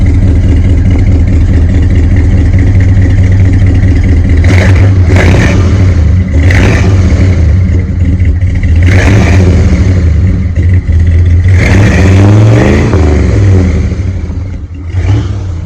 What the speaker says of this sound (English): Give her some gas.